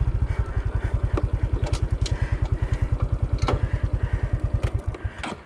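A Honda Wave 125i motorcycle runs on a scramble track, its engine chugging in a fast, even thumping rhythm, loud and close, with the pulses easing off near the end.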